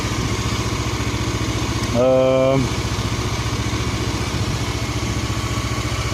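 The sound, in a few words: motorcycle engine running evenly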